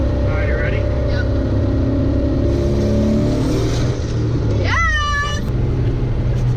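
A big-turbo BMW 335i roars under hard acceleration after a downshift, engine pitch climbing and sweeping upward near the end, while people talk and shout excitedly inside the car.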